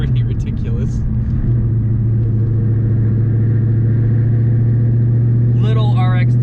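Supercharged 2003 Whipple Cobra Mustang engine running at low RPM, a loud, steady, deep rumble close by that fills the whole clip, with a voice speaking briefly over it near the end.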